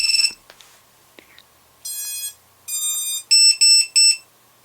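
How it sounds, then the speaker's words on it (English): An RC Lucky Box drone beeper sounds after being plugged in, giving a few faint clicks followed by a series of loud, piercing electronic beeps that grow shorter and more rapid toward the end, close and alone. "it should give that rapid beep"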